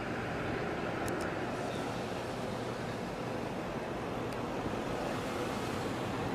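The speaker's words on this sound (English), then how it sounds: "Still a huge volume of water going through there." The Colorado River rushes in a huge volume, a constant broadband roar that stays steady and loud, with no voices over it.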